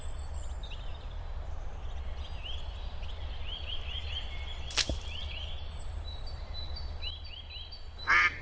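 Faint, scattered duck quacks at a park pond in a video game, over a steady low ambient hum, with a sharp click and a brief chirp near the end.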